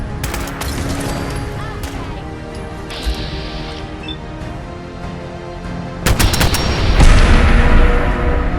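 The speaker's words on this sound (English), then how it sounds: "kind of like an automatic combat rifle" Automatic combat rifle fire from the game Fallout 4, rapid bursts that come and go across the whole stretch, loud and close, with a heavier flurry of shots near the end.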